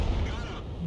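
A single booming tank gun shot from an SU-122A in a video game, a short heavy low thump with a rumbling tail, with a voice talking over it.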